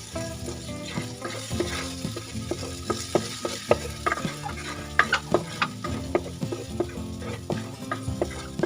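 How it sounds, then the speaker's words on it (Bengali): Masala of Kashmiri red chilli and salt frying in a pan over low heat, a soft sizzle under rhythmic spoon scraping and clinking strokes, close and moderately quiet, with no voices. "হালকা মশলাটাকে কষিয়ে নিয়ে"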